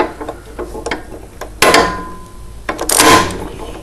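Spark plug being screwed back into a lawnmower engine, heard as a ratcheting, clicking metal run with short taps and two louder bursts of handling noise, close by and with no talking.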